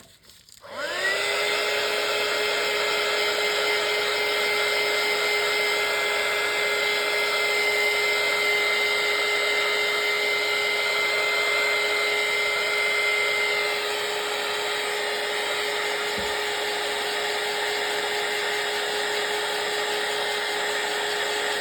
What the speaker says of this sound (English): Just give this a little dry.